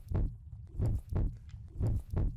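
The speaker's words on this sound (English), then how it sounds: "Heart pounding." A heavy, muffled heartbeat pounds in a horror first-person shooter game, five deep thumps in a steady rhythm that fill the foreground with no voices over them.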